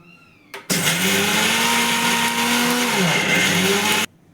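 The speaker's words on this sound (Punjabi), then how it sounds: "ਆਪਾਂ ਨੇ ਨਾ ਮਿਕਸੀ ਨੂੰ ਚਲਾਣਾ ਹੈ ਉਸ ਤੋਂ ਬਾਅਦ ਰੋਕ ਲੈਣਾ" A mixer grinder grinding soaked lentils whirs loudly in one burst of about three seconds, its motor pitch dipping briefly partway through before it stops abruptly.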